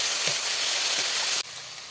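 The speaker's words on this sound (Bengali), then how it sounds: "আলুটা মশলার সঙ্গে দিয়ে দিলাম কষাই করার জন্য" Potatoes stirred into hot spice paste in a pan, cooking for a Bengali rupchanda fish curry, give a loud, close, even sizzling hiss that drops off abruptly near the end.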